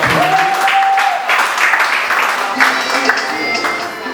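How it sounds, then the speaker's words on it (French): Studio audience applause at a French quiz show prize-giving, a steady dense wash of clapping filling the room, with a brief tonal whistle early and some voices mixed in. "Félicitations à elle, on peut encore applaudir"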